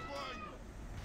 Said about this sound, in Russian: Да это кошка, я не тяну.